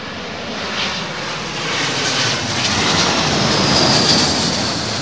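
An Airbus A321 jet lands at Heathrow in high crosswinds, its engines a loud, steady broadband roar that swells gradually as the aircraft passes close by, with wind rushing throughout.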